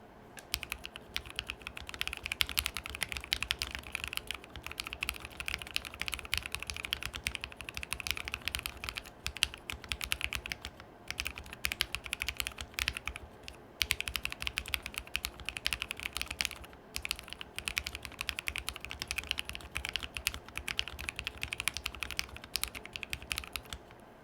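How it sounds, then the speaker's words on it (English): Steady, fast typing on a mechanical keyboard with lubed Glorious Lynx switches, soft and muted keystrokes clattering continuously at a close distance with no voices. "I did a lubed sound test as well of just the switches on the entire board"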